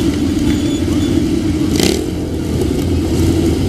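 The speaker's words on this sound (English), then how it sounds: "You'll hear a quick rev of the engine to let them know when to turn." A Royal Signals White Helmets display motorcycle engine at the Great Dorset Steam Fair gives a quick rev over steady loud engine rumble, heard close and continuous through a short stretch with no talking.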